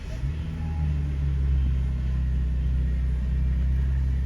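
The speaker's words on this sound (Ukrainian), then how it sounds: "Змонтувавши рейку на автомобіль, проводимо запуск самого автомобіля." An Audi A6 engine idles with a steady low rumble and hum after a steering rack repair, close by and constant throughout, with no voices.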